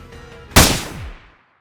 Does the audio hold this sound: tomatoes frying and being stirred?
no